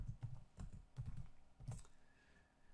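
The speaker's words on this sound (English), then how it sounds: "We can type equals unique." Keystrokes on a computer keyboard while entering a spreadsheet formula in Excel: a quick run of separate, close clicks in small bursts with short pauses between them, and no talking.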